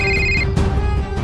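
A telephone rings loudly and close with a steady electronic tone that carries through a short burst, with no voices over it.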